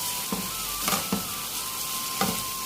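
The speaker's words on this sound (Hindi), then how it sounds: "मैं थोड़ा सा ये केचप है ये डालूँगी, ताकि इसमें थोड़ा सा कलर आ जाए" Cluster beans and potatoes sizzle steadily in a hot pan as ketchup is added, with a few soft stirring scrapes and clicks spaced through the continuous frying hiss; no one speaks.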